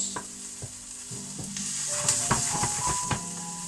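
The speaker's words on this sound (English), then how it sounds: "all we're looking to do now is just brown these onions now" Onions browning in a hot pan for a veggie burger, a steady close sizzle broken by several sharp scrapes and knocks of a utensil stirring them, no voices.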